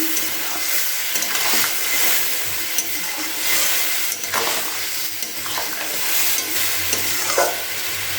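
Ground spices moistened with a little water sizzle steadily while being stirred and sautéed in a pan for a vegetarian broccoli and paneer curry, with continuous frying hiss and periodic scraping strokes.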